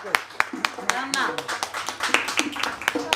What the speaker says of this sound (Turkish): Kaynanaya alkış.